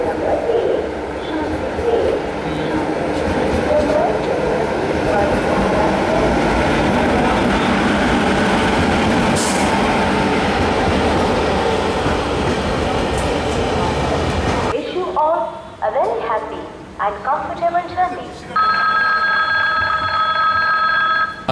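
The Mandovi Express runs along the Konkan railway in the monsoon, with a loud, steady rumble and rattle of carriages that cuts off abruptly into quieter interior sounds, a few knocks and a ringing electronic tone.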